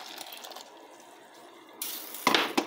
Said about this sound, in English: this boiling water we will add here in our maple syrup